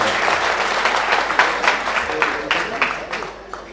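A crowd at an Anti Corruption Front political gathering gives a speaker a loud welcoming round of applause, dense clapping that starts strong and gradually thins out toward the end.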